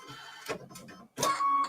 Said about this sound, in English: So now it's going to stitch the placement line for all my letters.